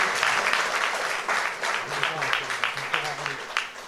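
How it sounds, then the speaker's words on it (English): Audience applause for an NGO at a fashion show ramp event, a dense wash of clapping with voices and cheering mixed in, fading slightly toward the end. "let's have a huge round of applause for this NGO"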